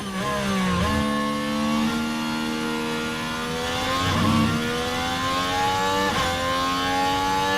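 Formula 1 race cars in the F1 Manager 24 video game passing through a chicane at the Singapore circuit: loud, close engines whining, with gears dropping and revving back up several times as they brake and accelerate.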